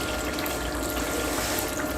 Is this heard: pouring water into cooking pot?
yes